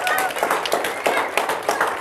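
Audience applause at a celebrity fishing contest award ceremony, brisk rhythmic clapping from a small crowd, close and lively, with voices faintly mixed in.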